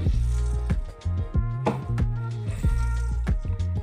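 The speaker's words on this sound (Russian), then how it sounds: "Набираю небольшую порцию кабачка и начинаю в ту же чашку отжимать" Grated zucchini squeezed by hand into a bowl, a few wet squishes and drips of water at an irregular rhythm, close and moderately loud, with no talking.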